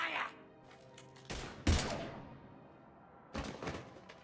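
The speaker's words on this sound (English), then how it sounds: "Now open fire!" Gunfire breaks out in the sci-fi shooter Mass Effect 3, with a few sharp, separate shot bursts and thuds spread over a short span, mixed with faint game voices and effects.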